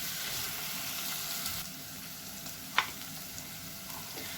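Kanthari chicken frying in a pan while it is stirred, with a continuous close sizzle and soft scraping. A sharper clink of the utensil against the pan sounds once, and there is no talking.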